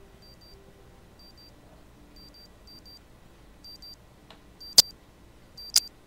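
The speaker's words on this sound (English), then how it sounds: "What's that beeping sound?" In an indie horror video game, faint repeated electronic beeps pulse at a steady rhythm, then two sharp, louder clicks ring out near the end over a low ambient hum.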